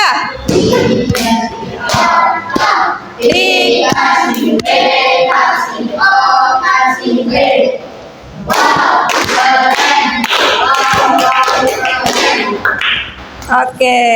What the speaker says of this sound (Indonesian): Oke, kita kasih tepuk wow dulu ya